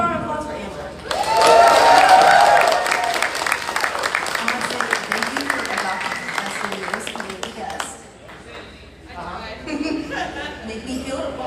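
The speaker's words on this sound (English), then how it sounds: "Give a round of applause for Amber." A convention audience applauds for Amber, a burst of clapping that swells quickly and then thins into scattered claps and crowd chatter, with voices talking over it.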